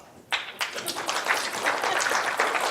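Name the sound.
audience clapping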